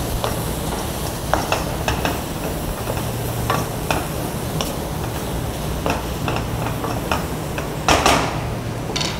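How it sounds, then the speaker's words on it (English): Vegetables in a chicken stir fry pan sizzle loudly after a splash of water, a dense continuous hiss broken by scattered crackles and a few sharp spatula scrapes, close and steady with no talk. "You need 2 tablespoons of water, and you're just going to add that in, and it will sizzle up"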